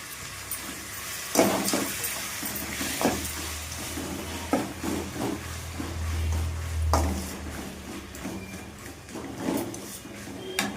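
Tomatoes sizzle and fry in a pan of salt, ginger and garlic for a fish curry, with steady stirring, spoon scrapes and occasional clanks of the pan close by.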